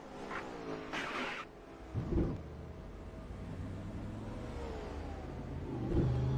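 Race car engines roar and rev in the 1960 World 600 racing game, a sustained droning whine with rising pitch and a few sharper surges, no talk.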